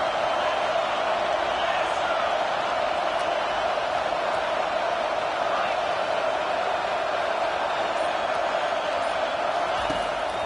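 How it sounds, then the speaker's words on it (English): A football stadium crowd roars in a dense, unbroken wall of noise that holds steady and loud throughout, with no clear breaks. "Listen to this crowd just shaking the girders of this place"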